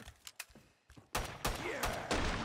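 Gunfire in Killing Floor 2 opens with a few scattered clicks and shots, then erupts into a dense, loud burst of rapid firing that continues to the end.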